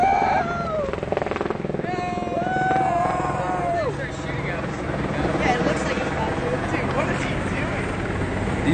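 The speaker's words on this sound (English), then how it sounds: "We've got helicopters in the room." A helicopter drones steadily with a broad rotor rumble, while a crowd's voices and chatter carry over it throughout.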